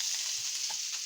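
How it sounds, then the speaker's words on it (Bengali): Chicken pieces fry in a little oil with a bright, hissing sizzle, close and continuous, with a soft stir or two underneath. "অল্প তেলে মুরগিগুলো ভাজতেছি"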